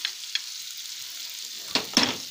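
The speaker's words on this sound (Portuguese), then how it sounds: "Você deixa ela frigir, cozinhar essa margarina." Carrot frying in melted margarine in a pan for farofa gives a soft, steady sizzle, broken by a few brief stirring scrapes and clatters, with the two loudest near the end. The sound is close and fairly quiet.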